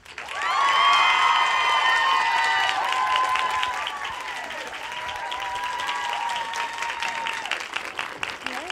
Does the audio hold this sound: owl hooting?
no